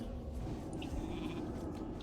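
A sheep bleat from a mage's polymorph spell in World of Warcraft, a short bleating cry sitting over a steady low background rumble of a raid fight, with no talking.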